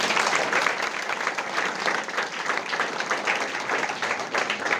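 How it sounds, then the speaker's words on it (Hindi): Applause from a seated audience at a motivational talk event, steady and full for the whole stretch, a thick continuous patter of many hands with no speech over it. "तालियां बजाओ, तालियां"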